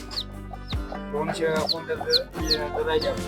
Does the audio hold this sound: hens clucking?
yes